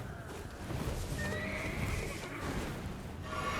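A horse in the video game Elden Ring neighs with a long, loud whinny, and hoof clip-clop sounds run beneath it against a dense, noisy game soundscape.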